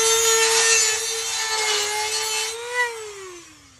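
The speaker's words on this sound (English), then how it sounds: "I have that super big grinder. It really makes quick work of this sort of stuff." A large angle grinder cuts into a cracked steel deck of a Toro Time Cutter 5000 zero-turn mower, with a loud, steady high whine that sags in pitch as the disc loads up and then winds down.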